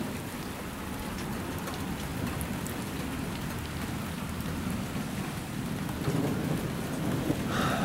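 Heavy rain pours steadily during a strong thunderstorm over Hampton Roads, with low rolling thunder rumbling beneath the dense hiss of rainfall.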